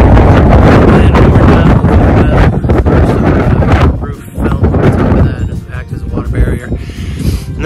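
Strong, gusty wind buffets the microphone on the roof of a 25 by 25 foot pavilion under construction in Monroe, Georgia, loud and roaring at first and then easing into lighter gusts; no speech.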